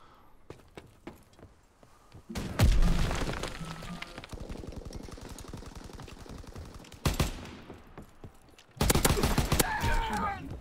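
Gunfire in Call of Duty WW2: scattered single shots, then dense rapid automatic bursts, a pause, and another loud close volley, with faint talk underneath.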